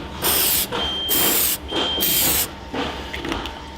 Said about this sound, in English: You won't get clarity until you spray the protectant on.